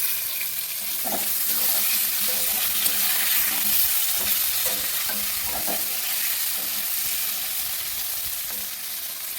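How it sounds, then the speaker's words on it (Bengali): Steady oil sizzling and crackling of pointed gourd slices frying in a pan, continuous and fairly loud, with occasional stirring clinks; no talking. "আর এখন হচ্ছে গিয়ে পটল ভাজা"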